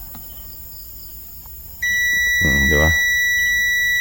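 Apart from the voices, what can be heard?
multimeter continuity buzzer beeping while testing 12V amplifier for short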